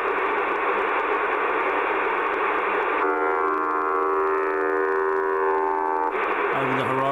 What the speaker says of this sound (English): Over the horizon radar, maybe.